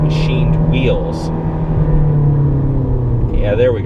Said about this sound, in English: There goes the engine noise.